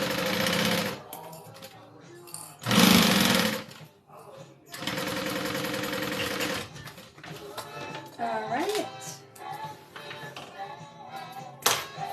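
A sewing machine top-stitches the exterior of a fabric bag at a 3.5 stitch length, running in loud bursts of rapid needle chatter separated by short pauses, with some talking between runs.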